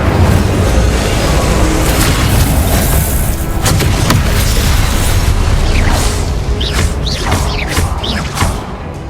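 Confringo and Incendio spell blasts in Hogwarts Legacy, loud booming bursts and fiery whooshes repeating over a rumbling, mechanical background, with sharp cracks clustered toward the end.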